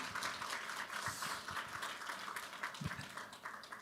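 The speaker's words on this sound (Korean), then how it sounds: "김상수 목사님께 다시 한번 감사의 박수 부탁드리겠습니다" Church audience at a book-launch concert gives a pastor a round of applause, a soft, somewhat distant patter of clapping with a few sharper individual claps standing out.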